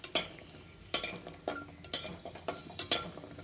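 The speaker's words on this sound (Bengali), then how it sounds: "ডালের বড়িটা ভেজে নিচ্ছি।" Lentil dumplings (daler bori) fry in a pan, heard mostly as a series of quiet, evenly spaced scrapes and clinks from a spatula stirring them, under a faint sizzle with no talk.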